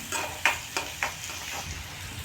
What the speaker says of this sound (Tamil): சின்ன வெங்காயம் நல்லா பொன்னிறமாக வரணும். அந்த டைம் வரைக்கும் நல்லா வதக்கணும்.